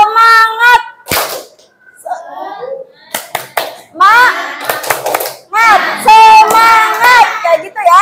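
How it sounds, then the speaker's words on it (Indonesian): A group of children performs a rhythmic clap-and-chant cheer, sharp claps in patterned bursts alternating with short shouted sung phrases led by a voice, close and loud in a classroom. "Kita cukup melakukan tepuk semangat."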